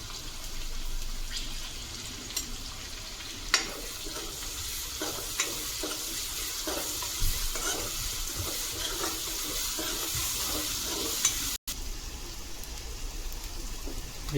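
Ginger garlic paste frying in a pan for a tuna fish masala curry, a steady close sizzle throughout with occasional soft clicks and scrapes of stirring.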